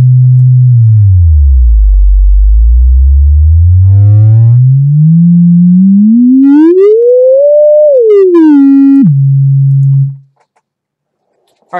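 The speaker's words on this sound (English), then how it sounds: "I'm going to swing this back and forth while it's playing. You can hear the tones change." A steady electronic tone glides slowly down, then climbs steadily upward to a peak before dropping back, loud and continuous, then stops abruptly.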